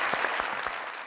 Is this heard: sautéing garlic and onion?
no